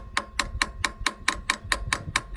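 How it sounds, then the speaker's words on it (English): A small hammer taps a seized valve stop on an old Lister CS diesel engine in a steady run of about ten sharp metallic strikes, close and evenly spaced, with no talking. "Again, it's a job for a little hammer."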